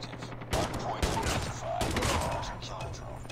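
Bursts of J358 revolver gunfire in the mobile shooter Call of Duty Mobile, with sharp repeated shots over about three seconds against busy game ambience, loud and close.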